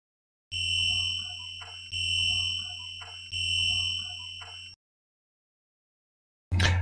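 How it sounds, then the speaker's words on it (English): An electrical voltage indicator, used while testing for diverted neutral currents, gives three loud warbling electronic alarm tones of about 1.4 seconds each in a row. After a pause of silence a short burst of another sound follows. "One makes like a warble sound if it's detecting a voltage, or it can make a plain beep if it's detecting some kind of continuity."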